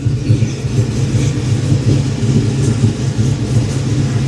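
Pickup truck engine running on Holley Terminator X fuel injection, idling rich on a fresh start with a steady low rumbling throb, close and fairly loud, with no talk over it.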